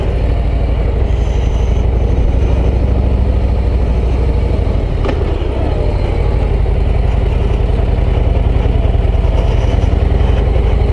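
A Harley-Davidson Street Glide ST motorcycle engine rumbles steadily and loudly throughout, a continuous low throb of riding with no pauses.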